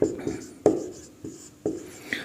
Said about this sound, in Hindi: तो यहां पे लिखते हैं